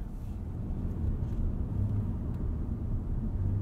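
A 2021 Ford F-150 XLT 4X4 SuperCrew with a 2.7 EcoBoost and 10-speed automatic drives on back roads, a steady low engine and road hum heard from inside the cab, with faint shifts in tone as it downshifts.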